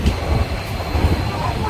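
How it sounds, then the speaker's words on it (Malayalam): A passenger train arriving at a station in Kerala, with a steady low rumble of rolling wheels and carriage noise throughout, some faint voices mixed in the background. "ഈ ട്രെയിൻ വരാൻ വേണ്ടി ഇവിടെ വെയിറ്റ് ചെയ്തിരുന്നത്"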